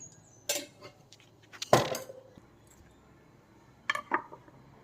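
A metal kadai is set on a lit stove and ghee is added for frying bread pieces: a few clear metallic clanks and clinks, close by, with quiet pauses between.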